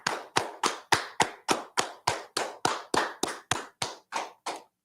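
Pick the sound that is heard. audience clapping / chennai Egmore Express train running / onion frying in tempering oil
audience clapping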